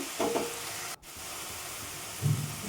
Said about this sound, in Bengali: আদা রসুনটা আমি দিয়ে দিলাম দিয়ে আদা রসুনটা একটুখানি ভেজে নেব মশলার সাথে